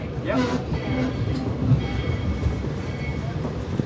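Walt Disney World Railroad train rolling into Main Street Station, a steady low rumble and clatter of the cars running throughout, with a voice talking over it.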